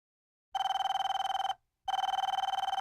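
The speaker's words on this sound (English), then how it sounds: "All telephones will be picked up before the 4th ring." A hotel telephone bell rings twice, each ring a rapid electronic trill about a second long, with a short silent gap between them.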